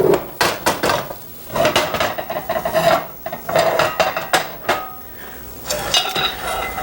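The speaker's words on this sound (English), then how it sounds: "So I'm going to stir in that cheese." Cheese being stirred into a cream sauce in a pan: a steady run of metallic clinks, taps and scrapes from the spoon against the pan, close and fairly loud.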